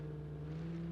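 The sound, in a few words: car engine revving in BeamNG.drive video game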